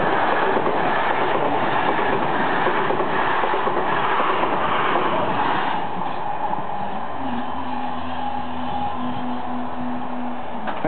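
Passenger train from Portsmouth rolling past the Kingsfernsden Lane level crossing in Petersfield, Hampshire, a loud close rumble with wheel clatter that eases off as a steady crossing tone rises near the end.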